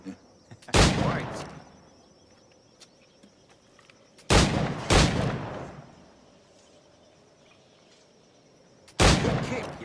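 Three loud, close firearm blasts, each a sharp crack followed by a lingering rumble, ring out several seconds apart in Assassin's Creed Black Flag; the second is a quick double shot, over a faint outdoor ambience.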